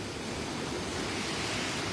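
Water pours over the spillway of the Araras reservoir in Ceará, Brazil, making a dense, continuous rushing roar that stays steady and fairly loud throughout, with no voices.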